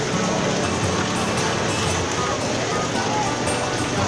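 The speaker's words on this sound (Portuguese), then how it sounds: "E a chuva tá aí, viu, gente?" Heavy rain pours steadily over a street market in Pompeia, a dense, constant hiss of drops striking surfaces with faint voices underneath.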